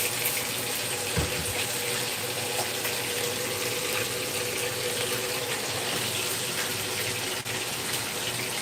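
Tap water runs steadily into a kitchen sink to prepare vinegar water while cooking Jamaican escovitch fish, a constant hissing gush that fills the clip without pause and has no talk over it.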